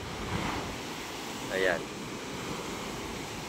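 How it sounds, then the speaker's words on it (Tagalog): Large sea waves on a rough morning give a steady washing roar along the shore, with wind buffeting the microphone and a brief spoken word partway through. "Lalaki ng alon, grabe."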